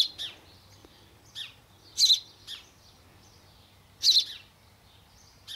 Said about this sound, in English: I hope you liked the video of my baby sparrow in my nan's back garden